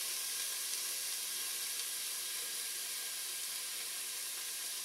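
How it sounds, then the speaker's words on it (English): Celery and red pepper sizzling in a hot pan for vegan red beans, a steady, even frying hiss with no breaks, fairly faint and heard alone. "Let it sizzle."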